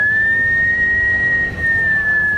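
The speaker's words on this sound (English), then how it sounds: "Why are you whistling like that?" A single long, steady whistled tone holds an even pitch for a couple of seconds, clear and close, with faint room noise beneath.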